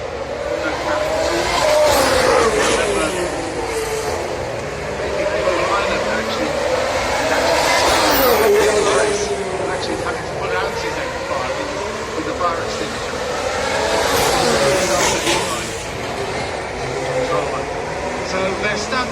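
Formula 1 cars lapping the Singapore night race circuit in practice, engines swelling and fading as they pass in waves, loud and near, with a commentator talking over the passes.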